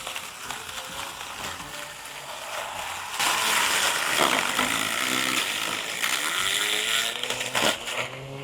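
A LEADER cordless grass trimmer whirs steadily, its motor pitch rising and straining as it cuts into short, sparse grass, stalling as grass winds around its blades.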